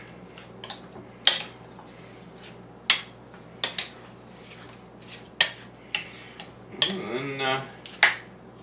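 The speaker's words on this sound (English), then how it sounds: "all you got to do is just stir it around" A spoon stirs vanilla yogurt into a fruit salad of bananas in a bowl, making scattered sharp clinks and scrapes against the dish, with a brief spoken phrase in between.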